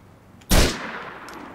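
A single loud, sharp gunshot bursts out in GTA IV and leaves a decaying echo, with a fainter crack following soon after.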